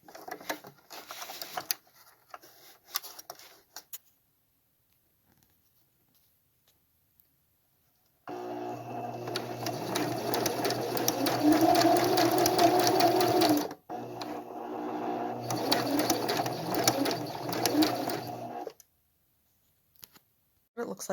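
A sewing machine stitches zigzag along the edge of a screen fitted with a magnet, running steadily in two long bursts with a brief pause between, after quieter moments with speech.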